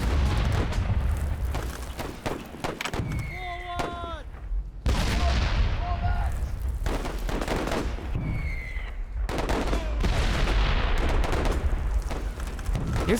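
Mortar fire in a war video game arrives as a dense barrage of booms and gunfire, heavy and continuous, with whistling shells and explosions layered throughout.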